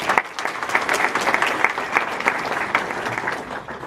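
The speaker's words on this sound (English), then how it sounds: "So a big round of applause for Madison." An audience at a conference opening session gives a speaker a steady round of applause, dense and fairly loud, holding evenly throughout with a faint murmur of voices mixed in.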